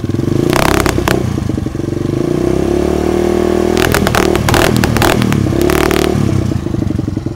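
A motorcycle engine idles close by with a steady, throbbing rumble, punctuated by clattery, rattling bursts now and then; no talking.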